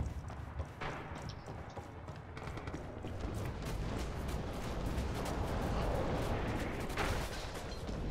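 In Red Orchestra 2, artillery fire booms and thuds continuously as dense battlefield noise, with gunfire mixed in and no clear voices.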